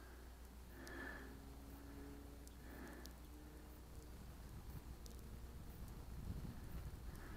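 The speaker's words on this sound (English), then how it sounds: "It's pretty windy." Gusty wind at a model airplane flying field buffets the microphone in low rumbling bursts that rise and ease off intermittently, fairly quiet overall, with faint distant tones drifting in.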